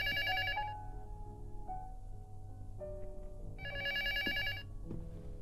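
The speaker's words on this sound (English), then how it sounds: "The phone might be downstairs." A telephone rings in the horror video game Luto, repeated electronic bell bursts with a pause between them and a low ambient drone underneath, and no talk over it.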